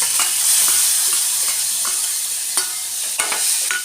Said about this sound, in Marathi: हे छान परतून घेणार मी आता